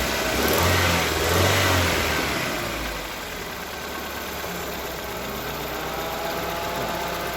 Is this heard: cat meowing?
no